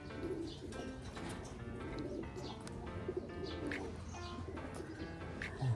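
A hand-fed pet pigeon coos softly and repeatedly at close range, with a few faint chirps from other birds in the background.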